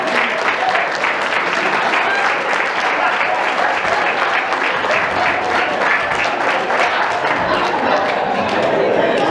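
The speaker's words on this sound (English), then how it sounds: "She's 105 years old today. Give her a round of applause." Loud, sustained audience applause with crowd chatter fills the room for a 105-year-old woman at a Not So Newlywed Game event in Coxie, Alabama, steady throughout.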